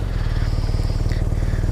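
A large BMW police touring motorcycle engine idles with a steady, throbbing low rumble, close and continuous, with a faint higher whine drifting over it.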